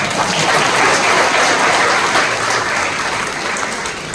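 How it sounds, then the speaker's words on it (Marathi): An audience applauds a speaker at a lecture, a dense, steady clapping from many hands that stays full and loud for about four seconds and fades slightly at the end. "या सगळ्या टाळ्या तुमच्यासाठी आहेत"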